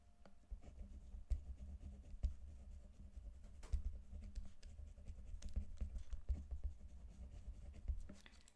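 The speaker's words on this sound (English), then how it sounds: "Let me write that down then." A pen scratches across paper as an order is jotted down, close and quiet, in short irregular strokes and taps with no talking.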